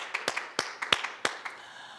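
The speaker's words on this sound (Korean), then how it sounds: "다시 한번 박수로 영광 돌리겠습니다" Congregation in a church worship service clapping: scattered, uneven hand claps in quick succession at moderate distance, fading out after a couple of seconds.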